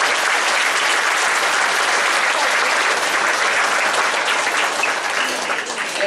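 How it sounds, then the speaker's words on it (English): Loud, dense applause from a concert audience for a school chamber orchestra, a thick continuous roar of clapping that holds steady and tapers slightly at the close. "Round of applause for the experienced and chamber orchestra."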